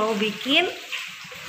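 Sweet potatoes frying in a home kitchen during a husband-versus-wife cooking contest, giving a steady close sizzle and crackle with brief voices over the start.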